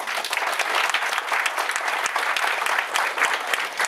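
An audience at a workshop bursts into sustained, dense clapping that fills the room evenly for a few seconds, close and loud.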